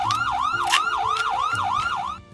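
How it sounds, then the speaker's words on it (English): An electronic siren alert plays on a live stream, a loud wailing tone sweeping up and down about seven times in quick regular cycles before cutting off abruptly. "thank you for the siren"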